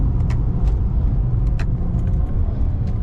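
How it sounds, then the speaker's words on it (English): Inside a moving BMW with an N54 engine and Alpina transmission flash, steady road and engine rumble fills the cabin during a rev-matched downshift, with a few light rattles and clicks over the drone. "It is rev matching on the downshifts."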